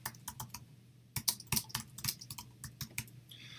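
Typing a slide title on a computer keyboard: a run of quick, irregular key clicks, close and fairly quiet, with no voices.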